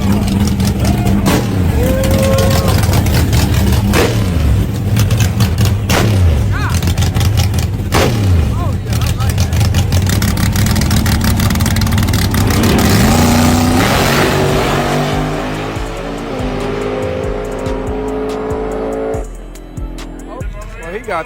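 A Ford Mustang drag car at a drag racing event runs its engine in a loud, sustained roar with sharp bursts, while crowd voices talk over it and the noise eases toward the end.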